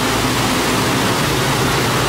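Two paddle wheels on a paddleboat cruise churn steadily through lake water, making a dense, continuous rushing wash close by with no voices.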